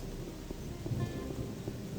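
Steady rain pours in the game Gothic, a dense continuous wash with a low rumble of thunder rolling underneath, no voices present.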